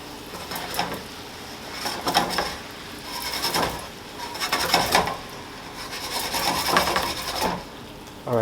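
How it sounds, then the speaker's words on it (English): A spoon gently stirs ackee and saltfish in a pot for a Jamaican dish, giving repeated soft scraping and rubbing strokes at a steady, unhurried pace, close and moderately loud. "ackee is very delicate, so when you're stirring it, you gotta be gentle"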